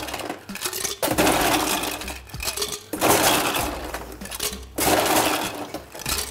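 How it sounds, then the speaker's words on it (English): Ice cubes tossed into a jug while mixing a summer spritz, three loud clattering bursts of cubes striking and tumbling, close up with no talk. "Toss in some ice."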